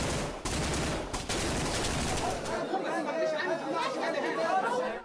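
Gunfire during an Israeli hostage rescue raid in Gaza: sharp bangs and bursts of shooting amid loud crowd chatter and shouting, dense and continuous, with voices heard throughout.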